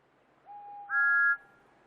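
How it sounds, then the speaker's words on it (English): A short two-toned steam train whistle blows, rising from a lower note to a louder, higher chord before cutting off. "A new whistle will help Thomas to be heard"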